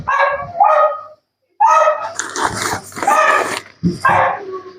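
A dog barks several times up close, rough and raspy, in short bursts with a brief pause between them.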